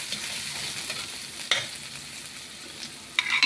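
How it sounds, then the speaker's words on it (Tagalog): Onions sautéing in a pan give a steady, moderate sizzle with faint stirring scrapes and a couple of brief clinks, with no talking. "Magigisa na. Sibuyas."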